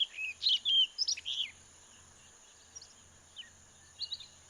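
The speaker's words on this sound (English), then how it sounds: "a northbound orchard oriole sings from a coastal wetland" An orchard oriole sings from a coastal wetland in a short burst of bright, varied whistled phrases, followed by a few faint, scattered chirps over a steady background hiss.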